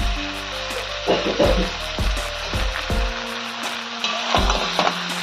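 Spice paste of ground cumin, green chilli, ginger and coriander frying in a pan for a winter prawn and broad bean curry, with a steady close sizzle broken by repeated scraping stirs and light clinks.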